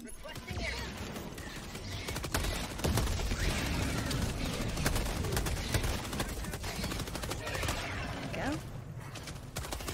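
Rapid gunfire from the video game Helldivers 2 rattles on steadily through the whole stretch, dense bursts of shots and impacts under several players talking to one another.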